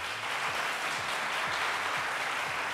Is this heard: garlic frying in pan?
no